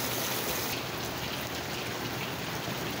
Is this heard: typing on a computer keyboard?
no